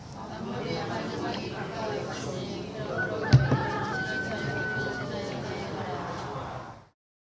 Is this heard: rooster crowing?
yes